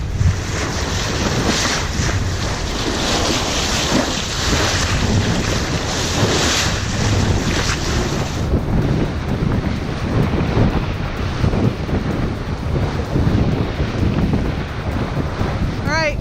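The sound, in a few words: strong wind at sea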